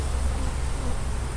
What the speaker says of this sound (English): So this hive getting an upgrade,